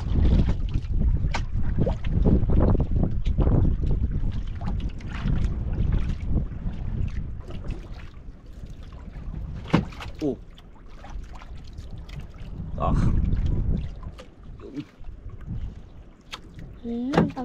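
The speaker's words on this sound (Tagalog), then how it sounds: "Ikot-ikot sa hangin yung bangka." Small boat drifting and turning in the wind on open water, with steady wind buffeting the microphone and light water sloshing throughout, and people talking loosely over it.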